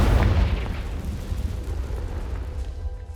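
A Confringo fire spell bursts in Hogwarts Legacy, a loud booming blast with a heavy low rumble that decays over about three seconds inside a dusty room, no talking.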